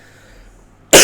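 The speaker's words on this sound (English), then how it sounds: "been having coughing for some time" One sudden, loud cough bursts out at the very end after near silence, short and harsh.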